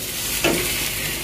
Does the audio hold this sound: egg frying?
yes